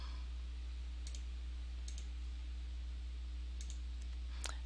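A computer mouse clicks a few times, sharp, faint, isolated ticks spaced apart over a steady low electrical hum.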